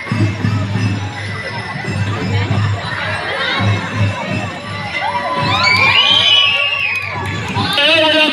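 Children shout and cheer together as a big crowd at a district elementary school athletic meet in Bocaue, a dense, loud, continuous din that swells in the second half, with some high shrieks standing out near the end.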